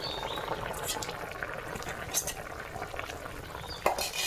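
Fish pieces cooking in a thickening, reduced curry gravy in a pan bubble and hiss quietly, with a small clink near the end; a voice talks over it.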